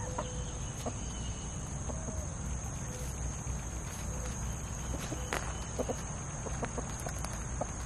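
Backyard chickens in a late-summer garden cluck softly now and then amid a steady hum of insects and crickets, with scattered footsteps and rustling close by.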